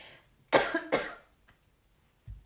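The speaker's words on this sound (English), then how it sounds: "there I go with the coughing" Two sharp coughs close together, near and fairly loud, followed by a short pause and a faint third cough.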